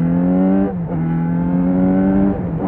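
Yamaha XJ6 motorcycle engine revving hard under acceleration, a loud, close, steady harmonic drone that dips briefly at a gear change before climbing again.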